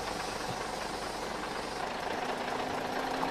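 A bus engine runs with a steady, broad rumble and hiss, a continuous moderately loud drone with no talking.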